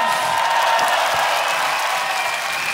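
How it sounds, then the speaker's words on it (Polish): Audience at a punk concert applauds and cheers steadily, a dense wash of clapping and crowd noise filling the whole stretch. "Brawa!"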